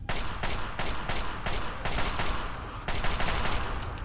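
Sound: assault rifle gunfire in the video game Fallout 3

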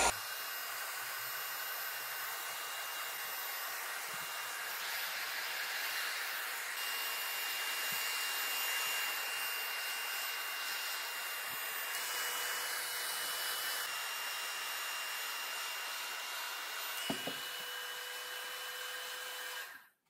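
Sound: hair dryer heating oiled wood

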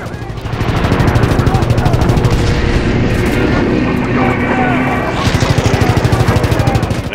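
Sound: gunfire from the video game Call of Duty WWII

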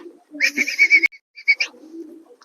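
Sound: pigeons cooing

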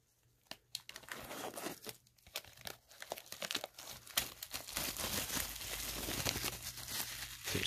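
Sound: crinkling soft plastic wrapping of game box

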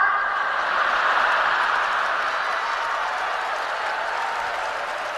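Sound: audience applause at crosstalk show

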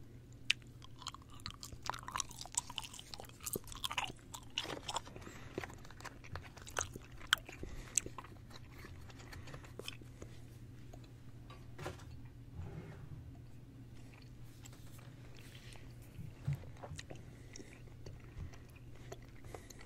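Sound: chewing a piece of gum

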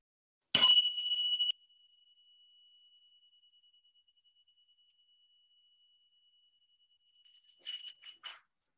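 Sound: tingsha bell being struck

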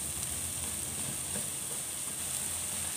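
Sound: onion and chili sautéing in oil

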